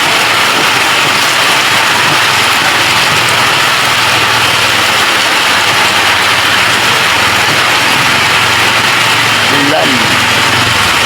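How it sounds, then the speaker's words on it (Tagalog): Steady heavy rain hisses throughout, with a low engine rumble underneath and voices talking faintly in the background. "Ang lakas ng ulan."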